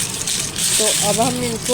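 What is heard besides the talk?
crunchy sun-dried raw mango pieces rattling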